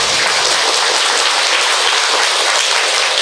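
Dense, steady applause from a lecture audience at the opening of a Buddhist talk, a loud continuous wash of many hands clapping with no pauses or voices.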